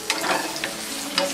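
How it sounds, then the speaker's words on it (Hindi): Tomatoes dropped into a hot frying pan, giving a short burst of sizzling with a few stirring scrapes and clicks, close and brief. "इसमें डालेंगे ये टमाटर,"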